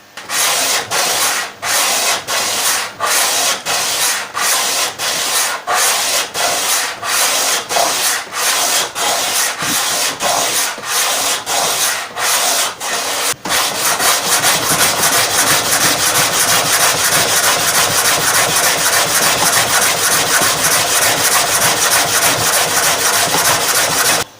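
A guitar fretboard is sanded to a radius with rough abrasive in a run of rhythmic back-and-forth strokes. The strokes then merge into a continuous, loud, close rasping scrub.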